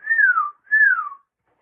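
A voice whistles to imitate a big, long red school principal's paddle with holes in it swishing through the air, giving two clear descending whistles one after the other, close and alone.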